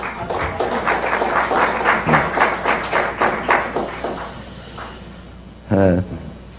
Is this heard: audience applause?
yes